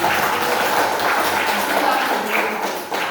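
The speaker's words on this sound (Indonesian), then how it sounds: "Beri tepuk tangan dong buat 2 guru." Classroom applause for two special teachers being introduced, a dense patter of clapping lasting the whole stretch at steady loudness, with a few voices faintly mixed in.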